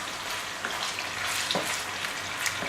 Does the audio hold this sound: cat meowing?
no